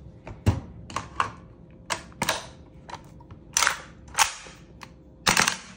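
An AK-style airsoft gas blowback rifle dry-fires with no ammo loaded, a run of sharp, close mechanical snaps, single shots spaced unevenly about half a second to a second apart.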